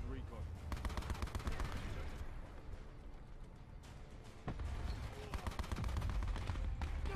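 Rapid bursts of automatic gunfire from a Call of Duty: Black Ops 4 multiplayer match, loud and sustained with brief pauses, crackling volleys stacking over one another.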